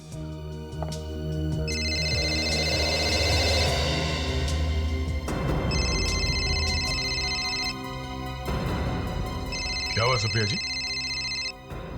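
A telephone rings in repeated electronic bursts, three separate rings spaced apart, while people talk over a steady background hum.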